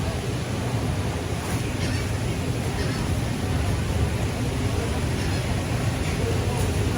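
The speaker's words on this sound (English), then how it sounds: "These birds are getting on our nerves." Geese honking along a beach amid steady surf and wind, the calls mixed into a continuous, fairly loud outdoor wash while people chat nearby.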